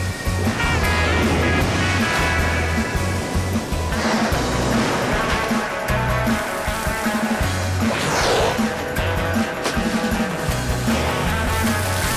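Ocean surf washes and crashes continuously, with breaking waves rising and fading amid a thick wash of spray and rumbling low thuds throughout.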